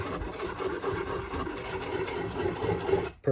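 Steady coarse rasping, close and continuous, a coarse sanding stick rubbed back and forth on a wooden cigar box guitar neck, running for about three seconds before stopping abruptly.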